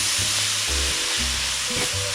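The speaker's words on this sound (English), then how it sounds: "I'm going to keep stirring this because I do not want it to be burnt" Collard greens and veggies fry in a pan with powdered seasoning and butter, sizzling loudly and steadily while a utensil stirs them, with repeated scraping sweeps close up.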